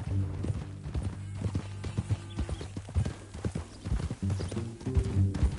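Horse hooves clip-clop in uneven bursts in a PS4 video game, a mid-level trotting rhythm with a brief whinny over a faint steady background.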